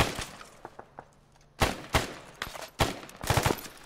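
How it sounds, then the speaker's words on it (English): Enemy autocannon anti-aircraft fire in the Arma 3 video game, heard as sharp, loud explosive bursts. They arrive in uneven clusters after a quieter stretch of scattered distant pops. "we're hearing enemy autocannon AA fire"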